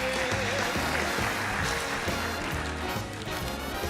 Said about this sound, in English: big round of applause for our special guest today